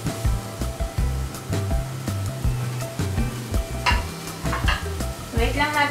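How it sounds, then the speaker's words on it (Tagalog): Onion and garlic fry in a pan for a coconut shrimp curry, with a steady sizzle under repeated clattering stirs and scrapes of a utensil against the pan, close and fairly loud throughout. "Wait lang natin maluto yung onion at saka garlic"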